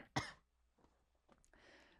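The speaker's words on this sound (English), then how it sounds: "I have to cough." A person coughs once sharply and close, then clears their throat with a few softer, rougher bursts, ending in a longer raspy throat-clearing sound in a quiet room.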